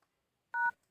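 A single short dual-tone keypad beep from a phone being dialed with a code, heard once, quiet and alone against silence.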